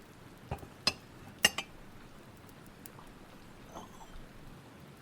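Cutlery and dishes clink at night during rain, a few sharp, light clinks spaced apart and fairly close, over a faint, steady background hiss.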